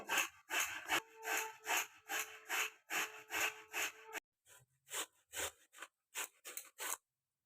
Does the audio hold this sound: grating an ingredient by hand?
yes